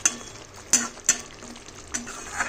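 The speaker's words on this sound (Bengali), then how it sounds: "ঢাকাটা খুলে তোমরা দেখতে পাচ্ছ সুন্দরভাবে রান্না চলছে।" Pointed gourd simmering in a mustard-poppy sauce in an uncovered pan, giving a steady soft sizzle with a few sharp clicks of a spoon or lid.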